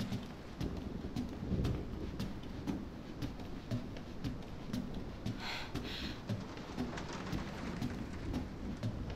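Steady heavy rain with rumbling thunder from a thunderstorm in the horror game Resident Evil 7, a dense continuous wash with low booming swells and no voices.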